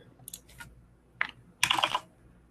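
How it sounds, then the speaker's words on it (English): Mechanical computer keyboard typing at close range: three separate bursts of quick clicking keystrokes, the last one the loudest and longest, with quiet gaps in between. "Forgive me for my mechanical keyboard."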